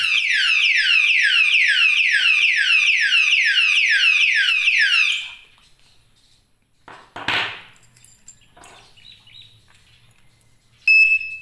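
Anti-theft padlock alarm blaring a rapid, piercing chirping siren for about five seconds, then cutting off, followed by a few quiet handling knocks and a short beep.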